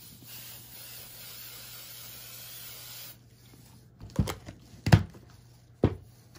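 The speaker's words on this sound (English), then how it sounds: "And then you just take some firm hold hairspray" Firm hold hairspray from an aerosol can gives a steady, fairly quiet hiss lasting about three seconds, then stops; a few handling thumps and rustles follow.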